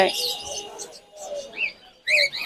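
Caged birds at a busy bird market in Mirpur, Dhaka, chirp and tweet in quick bright bursts with short pauses, close by, with faint crowd noise underneath.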